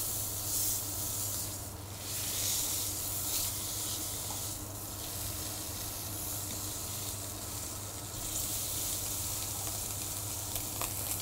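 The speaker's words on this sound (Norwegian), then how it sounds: "Vi svir det først kun av i olje." Meat searing in oil in a hot pan, a dense, steady, fairly loud hiss and crackle that pulses in a few waves and runs on with no voices.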